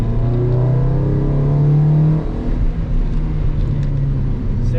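A Honda Civic EK with a naturally aspirated D16 engine and pod intake revs loudly on a quiet street corner, the pitch climbing under load, dipping briefly, then holding a droning engine note close by.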